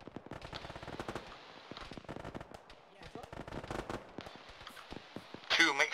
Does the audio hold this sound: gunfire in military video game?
yes